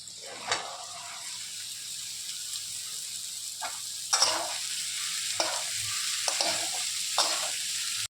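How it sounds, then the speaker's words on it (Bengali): Black chickpeas frying in a pan with fried potatoes and tomato give a soft, steady sizzle, broken by several sharp scrapes and taps of a spatula stirring them. "এখন আমি চানাটাকে একটু ভেজে নেব।"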